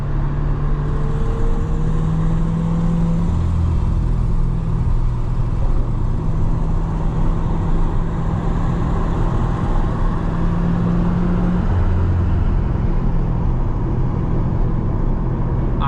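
Chevrolet Corvette C8 in Sport+ mode, a steady loud engine and exhaust drone from the cabin with shifting tones as revs change; distinct pops are not clearly evident.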